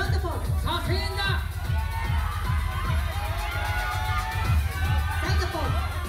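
Crowd at a Best Body Japan bodybuilding contest in Tokyo cheers and whoops loudly for posing contestants, overlapping shouts and calls over a steady pulsing beat of background music.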